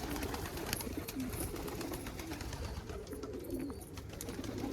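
Crested pigeons, including an Ashford crested saddle, coo steadily and continuously inside a loft, several birds overlapping in a low, murmuring chorus with no pauses.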